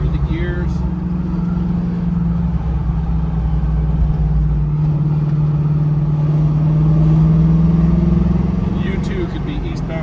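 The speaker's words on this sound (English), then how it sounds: "Rev it up through the gears." A 1978 Pontiac Trans Am Firebird with a T-10 four-speed manual runs as a loud, steady engine drone heard from inside the car. Its pitch rises and falls through the gears, and a voice talks over it.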